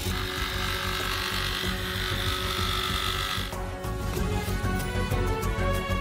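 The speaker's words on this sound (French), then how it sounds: "Et sciez le tuyau avec une scie sauteuse." A jigsaw buzzes steadily at close range, its motor pitch shifting partway through as the blade bites into the pipe.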